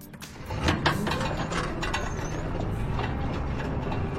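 Light jingling and rattling of loosely assembled parts on an electric tuk-tuk while it rolls, faint metallic tinkles scattered over a steady mechanical hum and road noise, with no talking.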